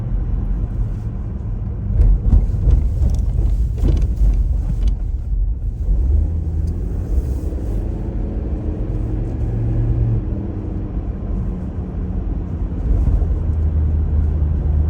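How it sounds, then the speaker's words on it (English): A car rolls over rough tracks, a heavy low rumble with bumpy thuds and rattles that swell around the middle before settling into a steady drone of road noise. "Get over the rough tracks again"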